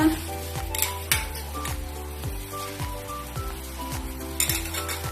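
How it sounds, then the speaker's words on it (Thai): Purple sweet potato and ginger pieces drop into a pot of boiling water, with clattering knocks and bubbling heard up close over a soft, repeating background melody. "จากนั้นใส่มันม่วงไปค่ะ ใส่ขิงลงไปนะคะ"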